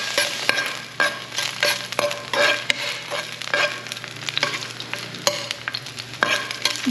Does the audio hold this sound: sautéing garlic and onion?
yes